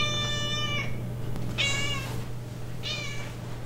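Two cats at a parents' house meow three times, clear, close and spaced about a second apart, over a low steady hum.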